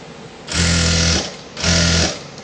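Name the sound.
sewing machine stitching along a fabric edge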